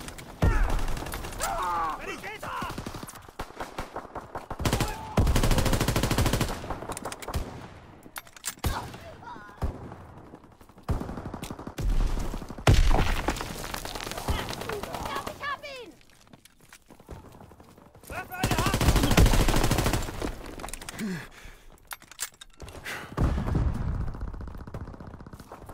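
Rapid bursts of gunfire in Call of Duty WWII team deathmatch, loud volleys and sustained machine-gun fire recurring through the clip, with a voice talking over parts of it.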